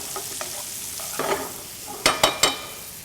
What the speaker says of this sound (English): So now I want to cook this down until my onions are soft and they're translucent.